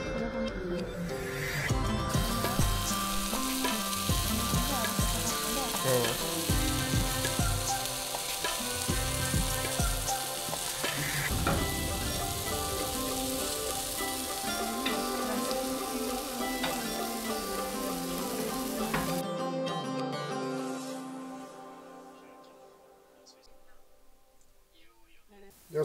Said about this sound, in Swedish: Jag står och diskar